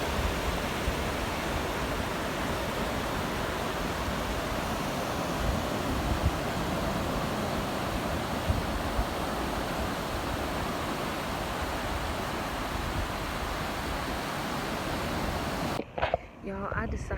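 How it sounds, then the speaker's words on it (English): Ocean surf rolls in at Cocoa Beach, Florida, a continuous broad wash of waves heard from the shore, steady and fairly loud, with a sudden handling disturbance near the end. "Y'all, the waves are getting bigger."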